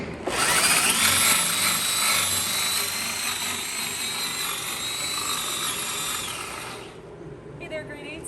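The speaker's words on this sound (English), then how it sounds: "Just drilling some holes in the wood shop." A power drill boring holes in wood in a school wood shop, a loud continuous whine that runs for about seven seconds and then stops, followed by brief quieter shop clatter.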